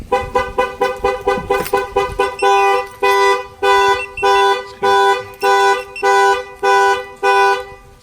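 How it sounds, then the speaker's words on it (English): A pickup truck's shock-sensor alarm sounds loudly nearby, first a fast series of short chirps, then a slower, steady pattern of longer repeated blasts. "When we fire off the alarm, it gives you the little hammer"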